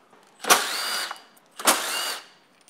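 Two bursts from a power driver with a T40 Torx bit as it backs out the luggage spindles on a Yamaha T7. Each whir is close and loud and lasts about half a second, with a short pause between them.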